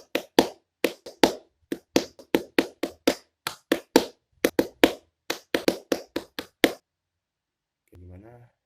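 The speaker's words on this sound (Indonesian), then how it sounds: "2 kali tepuk pramuka" A group performs the Pramuka scout clap twice, sharp close hand claps in a quick syncopated rhythmic pattern repeated, then the clapping stops, a short silence follows, and a voice briefly begins.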